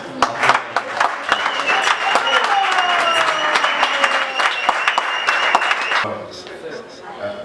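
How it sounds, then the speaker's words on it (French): An audience at an award ceremony honoring a professor breaks into sustained, dense applause, loud and close, with a voice speaking over the clapping before it fades out. "Applaudissons."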